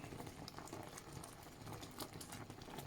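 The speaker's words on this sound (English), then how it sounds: "Slightly changed the boiling, a lot less foam forming on the top." Blackberry jam boils in a pot, a dense continuous bubbling and popping heard close up with no voices.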